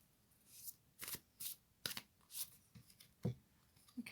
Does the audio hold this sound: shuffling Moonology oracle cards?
yes